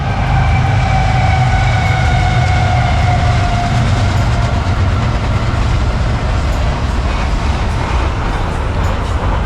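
A train rumbles past on the tracks in the northern United States, loud and close, with a steady roar and faint rhythmic clatter of wheels throughout.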